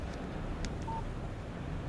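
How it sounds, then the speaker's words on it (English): A phone text message alert in the video game Alan Wake: a single short, quiet electronic beep over a faint low background hum. "Text message from Barry."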